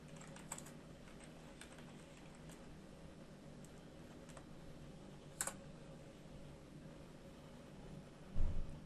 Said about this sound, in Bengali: এইখানে আমরা একটি কিওয়ার্ড লিখে সার্চ দেব